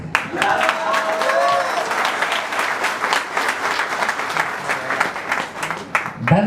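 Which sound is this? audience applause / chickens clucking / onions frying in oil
audience applause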